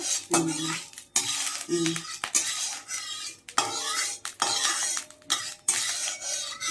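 A metal utensil scrapes and clatters repeatedly against a wok as mustard oil heats in it, with a faint sizzle underneath; the sounds are loud, close and irregular, with no talk.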